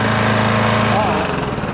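A Craftsman push lawn mower with a Briggs & Stratton Quantum engine runs steadily nearby, a loud continuous buzzing drone that holds even throughout, with a voice briefly under it.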